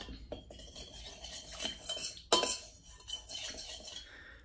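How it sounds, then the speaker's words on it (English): Spoon or utensil clinking and scraping in a bowl while dry starch powder is stirred into water to make a paste for an Elizabethan ruff, rhythmic close scrapes with one sharper knock midway. "you just want to mix the dry powder in with the water until you get a smooth kind of wet paste"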